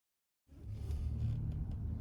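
A 1988 Nissan Pulsar NX SE hatchback with a 5-speed manual starts up after about half a second of silence, then a steady, close, low engine rumble and whir holds at an even level.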